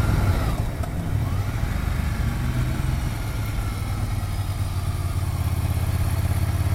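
A 2018 Ducati Monster 797 Plus motorcycle engine idles steadily nearby, a low, even rumble that holds at a constant level throughout with no revving.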